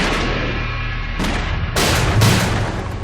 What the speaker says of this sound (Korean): 지난 7월 케냐 북서부의 작은 마을을 뒤흔든 총성